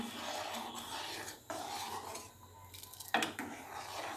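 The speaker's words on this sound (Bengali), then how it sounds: "এবার চালটা দিয়ে দুধের সঙ্গে ভালো করে ফুটিয়ে নেব এবার নাড়িয়ে দেখে নিই" A spoon scrapes and stirs rice simmering in milk for Bengali payesh in a metal pot, a steady close bubbling hiss broken by a few clinks and scrapes.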